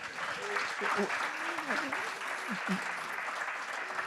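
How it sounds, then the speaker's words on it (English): Applause from a seated forum audience for a guest, steady and moderate, continuing under a host's voice that breaks in briefly. "Keep that applause going for Kika"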